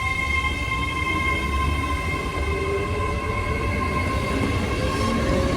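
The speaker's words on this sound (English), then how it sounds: "Departing out now is the 1451 Great Western Railway service from Swansea to London" A Great Western Railway Class 800 train on the 14:51 Swansea to London Paddington service pulls out of Bristol Parkway, a steady continuous rumble of wheels and traction with a sustained electrical whine throughout, near and fairly loud.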